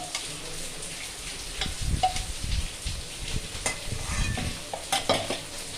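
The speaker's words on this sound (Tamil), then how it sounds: "நான் எண்ணெய் ஊற்றி தாளிக்கிறேன்" Oil sizzles and crackles steadily in a pan while tempering for an agathi keerai stir-fry, with occasional stirring scrapes close up and no talking.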